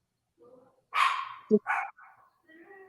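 A Chihuahua gives a few short, sharp barks and yips close by. A voice speaks in the background around them.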